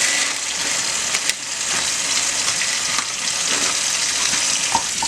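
Tap water running steadily into a colander of dried peas being rinsed for a New Year's Day dinner, a bright hissing splash with occasional clinks and pings of peas shifting, close by and without talk.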